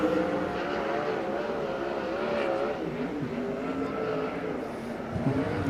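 A sprint car in USAC Western World Championship qualifying roars through turns 3 and 4, its engine note wavering as the car moves around the track, heard at a distance across the whole stretch.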